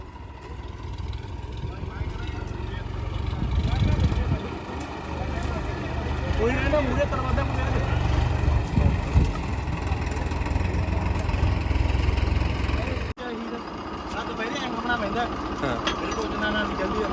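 A Mahindra tractor engine runs steadily while towing, a loud, continuous low mechanical drone that holds nearly level throughout, with a brief dip near the end.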